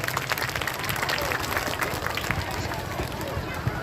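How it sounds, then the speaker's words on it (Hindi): Loud applause from an audience at a poetry gathering (kavi sammelan) at a girls' inter college, dense steady clapping filling the whole stretch with a murmur of voices underneath. "जोरदार तालियां सुंदर से कवि सम्मेलन के लिए।"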